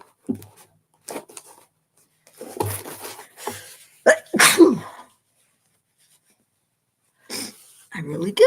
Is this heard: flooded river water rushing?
no